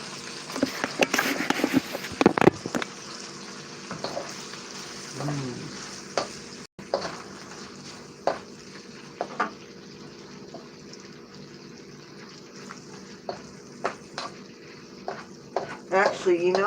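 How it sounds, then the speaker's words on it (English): Shrimp pushed into hot oil for scampi, frying with a steady crackling sizzle and scattered sharp pops and clatters, close up. "I'm going to take this and I'm going to push it into the oil."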